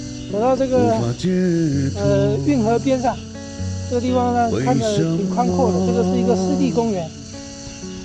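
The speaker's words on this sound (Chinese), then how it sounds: "然后这个知了的叫声嘎吱嘎吱嘎吱的" Cicadas buzz in poplar trees along a canal by a wetland park, a constant high hiss filling the background beneath someone talking throughout.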